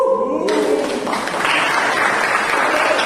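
An audience at a meeting breaks into steady clapping that fills the room, dense and sustained at close range after a brief moment of voice.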